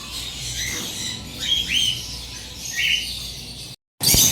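Pet lovebirds and sun conures give several short squawks and chirps from a bird room, spaced over a steady background hiss, with a brief gap before a louder closing burst.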